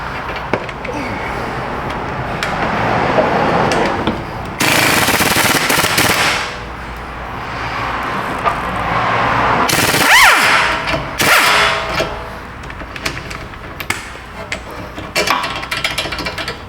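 Sharp metallic hammer blows strike a car's ABS module in a repair shop, coming in loud bursts of rapid clanks and bangs with pauses between them.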